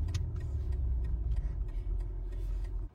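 BMW X5 50e hybrid SUV accelerating on a road: a deep, dense engine rumble with a faint ticking texture, loud and steady, then cutting off abruptly at the end.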